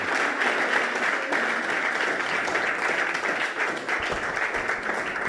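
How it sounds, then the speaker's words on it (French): A church congregation breaks into sustained applause during a testimony service, a dense, steady wash of many hands clapping at close range that holds without pause throughout. "Applaudissez."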